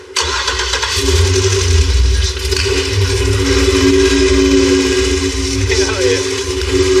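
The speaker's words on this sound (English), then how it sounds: "That engine sounds so bad." A 1955 car's engine cranks and catches right away, then runs loud, rough and rumbling close by at a steady idle with slight revs, while voices are faintly audible.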